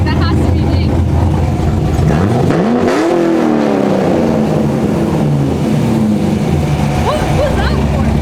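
A loud, straight-piped Corvette Z06 engine revs hard and climbs in pitch, holds a roaring drone, then settles into a steady rumble, with voices talking over it.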